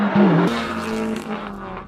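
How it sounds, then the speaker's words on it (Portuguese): A Honda Civic Type R compact car with a 300-horsepower four-cylinder engine drives past, its engine tone rising sharply and then holding a strained, steady note before fading slightly over about two seconds. "Este é um Honda Civic Type R, um carro compacto com motor de 4 cilindros e 300 cavalos de potência."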